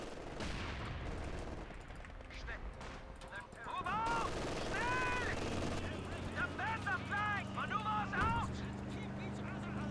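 Machine gun bursts rattle through a Company of Heroes 4v4 battle, rapid overlapping volleys with scattered single shots and distant explosions, loud and continuous under a player's voice.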